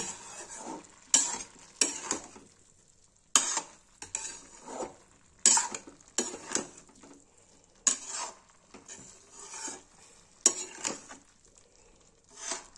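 Gobhi aloo sabzi cooking in oil as onion-garlic puree and masala roast with cauliflower and potato: soft sizzling under repeated scraping and clinking stirs of a spoon against the pan, near and steady, with no talking.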